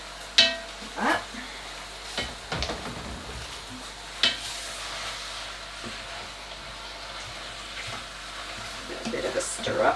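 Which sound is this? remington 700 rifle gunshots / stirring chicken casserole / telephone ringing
stirring chicken casserole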